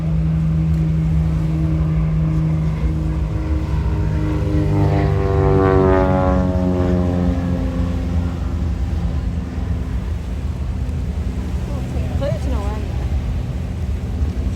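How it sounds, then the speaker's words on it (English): A Cessna 172 propeller plane with a Continental engine drones overhead and sweeps past at an air show, its engine note swelling and then dropping in pitch as it passes, before fading into steady background noise. "we have to say a big thanks to, now coming in from our left, Cessna 172, Dram."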